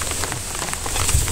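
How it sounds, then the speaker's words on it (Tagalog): Heavy rain pours steadily outdoors, a dense, even hiss of drops on surfaces that stays loud and constant throughout, with a low rumble beneath it. "Lakas ng ulan."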